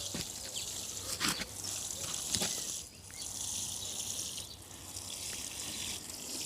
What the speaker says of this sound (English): Just give them a nice watering in.